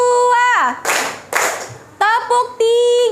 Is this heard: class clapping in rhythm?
yes